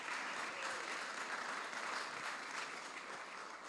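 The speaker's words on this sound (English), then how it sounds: "I just really want to actually give you a round of applause for showing up" An audience at a district attorney candidate forum applauds with steady, even clapping from a full room that holds at a constant level for the whole stretch.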